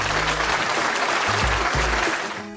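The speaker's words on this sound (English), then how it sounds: "A big round of applause to the Vihaan" Applause for a quiz contestant in a classroom-style quiz session, a steady dense patter of clapping from a group throughout, fairly loud and close with no talk over it.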